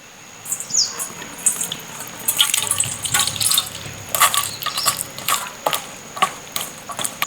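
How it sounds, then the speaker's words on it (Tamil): Wet squelching and sloshing as tamarind pulp is squeezed and kneaded by hand in water for crab rasam, in irregular bursts over a faint background hiss. "இந்த அளவு புளியை கரைச்சி எடுத்துருவோம்"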